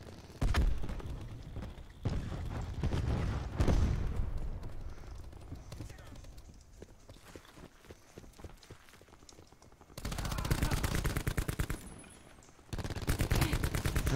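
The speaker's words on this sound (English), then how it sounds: "Throwing cluster grenade." Cluster grenade explosions and rapid gunfire in Call of Duty Modern Warfare, with dense bursts of shots and blasts, a quieter stretch in the middle, then loud renewed firing; a voice talks over parts of it.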